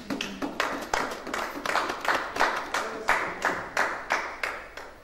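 A church congregation claps together in a steady rhythm to acclaim Jesus, about three sharp claps per second, close and lively, with murmured voices underneath.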